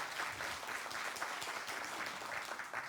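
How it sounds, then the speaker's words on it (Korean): Steady, quiet applause from a broadcasting forum audience congratulating a newly appointed advertising society president, a dense even patter lasting three seconds with no talk. "여러분 큰 박수 좀 부탁드립니다."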